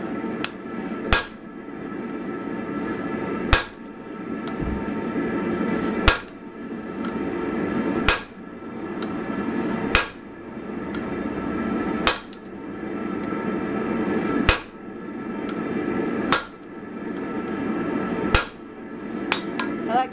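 Hammer blows ring out on a mild steel fuller set on an anvil while an axe is forged, about ten sharp metallic strikes spaced a couple of seconds apart, each followed by a brief ringing decay.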